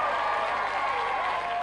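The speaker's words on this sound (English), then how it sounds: "Cue the applause." Studio audience applause on a radio chart show, a dense, continuous wash of clapping filling the whole brief moment.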